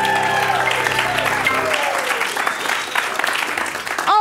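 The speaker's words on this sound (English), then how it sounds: "Also, round of applause for Philip, who's on lights and sound." A crowd applauds at a live evening show with keyboard music, with loud steady clapping as a held keyboard chord fades away beneath it.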